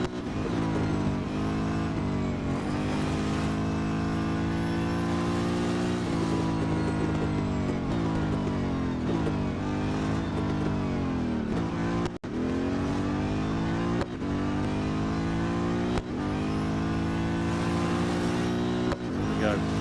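A Chevrolet race car's engine in the Real Racing 3 video game holds a loud, steady drone for about twenty seconds, its pitch rising and dipping with gear changes, while a voice talks over it.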